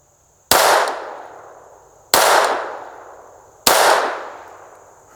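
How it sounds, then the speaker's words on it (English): Three sharp, loud gunshots ring out at even intervals of about a second and a half, each a sudden crack followed by a long fading echo, fired close by at a target. "I'm going to shoot at the bottom right-hand dot here."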